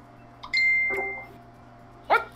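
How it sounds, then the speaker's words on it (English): Electronic notification tones from a Messenger call ring out close by. A sustained bleep is followed by a brighter chiming burst near the end, over a faint steady hum. "Is there any way to mute messenger notifications?"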